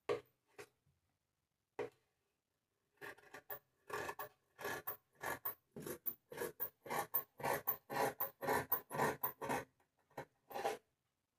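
Scissors cutting through shirt fabric, a few isolated snips followed by a fast run of crisp, close, rhythmic cuts that stop abruptly.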